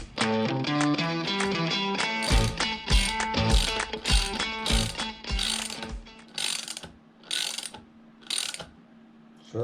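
A ratchet tightens the axle nut on a skateboard truck, giving rapid close clicking runs followed by several slower, separate ratcheting strokes, loud and alone.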